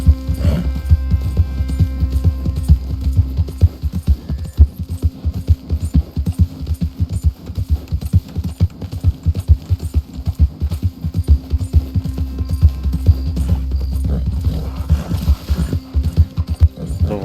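A horse in Red Dead Redemption 2 gallops steadily, its hooves striking in a fast, continuous clip-clop over a low hum. The rhythm slackens briefly in the middle and then picks up again.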